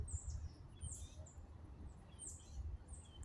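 Faint bird calls in the woods: a few short, high chirps repeat at intervals over a quiet, low background hum.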